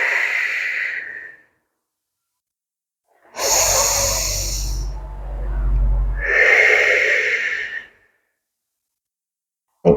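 A woman doing a stability-ball Pilates workout breathes in through her nose and then out through her mouth. A short inhale is followed by a long, loud, airy exhale of several seconds, close to the microphone, with no talking.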